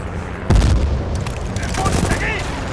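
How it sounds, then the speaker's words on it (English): Battlefield Bad Company 2 combat: a heavy boom and bursts of machine gun fire ring out amid chaotic battle noise, with shouting voices in the mix. "Machine gun! Frag it!"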